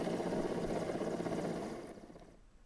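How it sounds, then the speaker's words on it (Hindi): An Air Force rescue helicopter gives a steady rotor and engine drone that fades noticeably toward the end, as if moving away. "एयरफोर्स का हेलीकॉप्टर आज सुबह करीब 6:30 बजे पहुंचा और उसने इस युवक का रेस्क्यू किया।"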